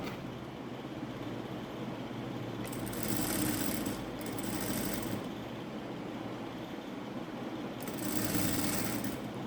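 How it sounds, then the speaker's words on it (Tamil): A sewing machine stitching piping onto fabric for potli buttons, running in short rapid whirring bursts with quiet pauses between them, close and fairly soft. "அப்படியே டைட்டாக ஸ்டிச் பண்ணிகிட்டே வாங்க"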